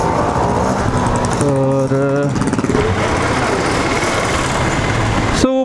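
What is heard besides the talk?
motorcycle riding on the road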